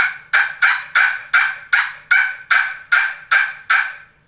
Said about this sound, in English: making some yelping sounds.